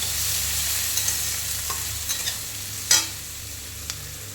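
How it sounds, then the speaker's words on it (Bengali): Onions frying with turmeric in a pan, giving a steady close sizzle with a few stirring clinks and scrapes scattered through, including one sharper knock midway. "হালকা হলুদ দেব। পেঁয়াজটাকে ভালো করে ভেজে নেব।"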